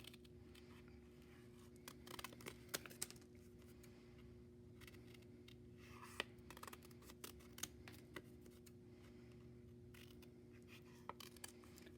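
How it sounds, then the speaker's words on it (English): Scissors snipping through folded paper along a drawn line to cut out flower shapes, heard as faint, scattered clicks and short snips over a steady background hum. "So I'm keeping my paper folded together and cutting on the line."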